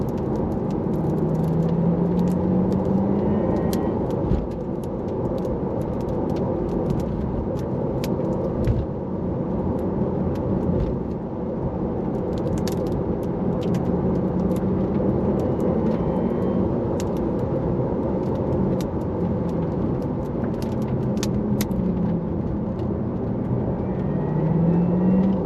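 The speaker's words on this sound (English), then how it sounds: "We did have a cheeky little cross-country drive on the way to that lookout, and I might insert a little clip right here." Porsche Taycan Turbo S electric car driving cross-country in Sweden, a steady low road rumble with tire and wind noise that holds evenly throughout, loud and close, with no talking.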